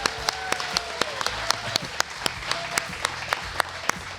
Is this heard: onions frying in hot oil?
no